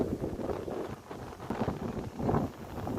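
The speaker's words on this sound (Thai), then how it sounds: "โอ้ยลมเป็นลมหนาวเป็นหนาวครับพี่น้อง" Cold wind blows across an open rice field in the early morning, a steady gusting rush that buffets the microphone at close range and swells and fades throughout.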